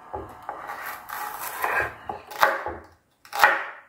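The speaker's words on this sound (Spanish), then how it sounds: "Yo lo corto en cubitos, chiquitos." A knife chops celery into small cubes on a board, giving irregular scraping strokes and several sharp knocks of the blade, fairly close and without speech.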